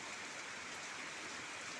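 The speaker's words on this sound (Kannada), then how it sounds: "ಭರ್ಜರಿ ಮಳೆ ಬರ್ತೈತೆ" Heavy rain pours over an old house in a steady, broadband rush with no breaks, faint but constant and with no voices.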